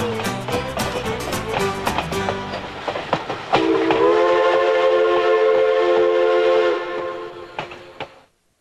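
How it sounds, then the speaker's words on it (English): An Ohio Central train rolls past with rhythmic clattering of wheels over rail joints. A long, loud whistle then holds steady for several seconds before the sound cuts off. "the swift rush of wind as another iron horse gallops by"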